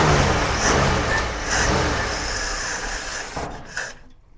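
A long-idle Jeep CJ5 engine revving under throttle, a loud broad roar that swells and falls before cutting off abruptly near the end.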